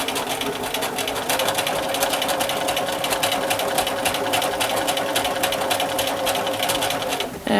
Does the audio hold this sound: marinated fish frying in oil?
no